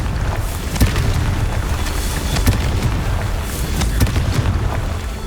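The Confringo fire spell in Hogwarts Legacy sets off a rumbling, booming blast that stays loud and continuous, with a few sharp cracks punching through, no voices.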